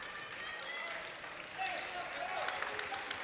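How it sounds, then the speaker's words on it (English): A student section applauding from the far sideline at a high school boys basketball game, a steady crowd wash of clapping and cheering that swells partway through, heard under an announcer's commentary. "on that defensive end is the Monarch student section with a round of applause over on that far sideline"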